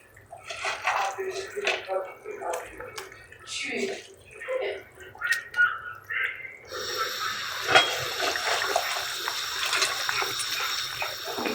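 Pieces of rohu fish slide into boiling curry water in a cooking pot, giving splashes and bubbling that rise and fall under a person talking, then a steadier hiss of the boil.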